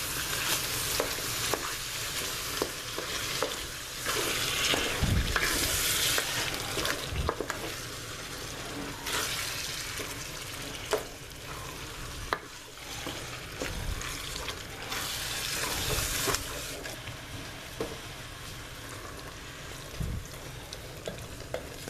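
Homemade beef and bean chili is stirred with a big spoon in a pot, giving repeated close scraping strokes over a low simmering sizzle that continues steadily, with no talking.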